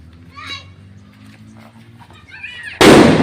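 A firecracker bomb goes off for Diwali in Assam, a single sharp, loud broadband bang near the end that follows a stretch of quieter background chatter and children's voices.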